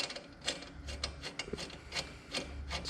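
Socket wrench ratcheting on a Honda CB500 motorcycle chain adjuster, a steady run of quick metallic clicks at close range with no talk.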